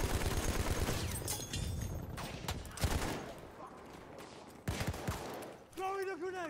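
Battlefield 1 multiplayer gunfire: bursts of rapid shots and scattered single cracks, loud and close, in uneven clusters with brief pauses, ending in a rising whistling tone.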